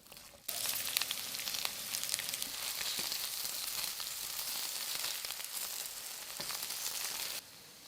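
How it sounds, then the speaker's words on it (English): Okra sizzles and crackles steadily in hot oil for several seconds, a bright continuous frying hiss with occasional pops, then stops abruptly. "add the cut okras and stir it so that the okras are fried evenly on all sides"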